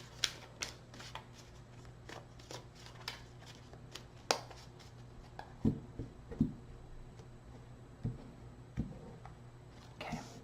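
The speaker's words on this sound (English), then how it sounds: "Two more shuffles." Tarot cards are shuffled by hand in a series of soft riffling flutters and crisp slaps, irregularly spaced and close, over a faint steady hum.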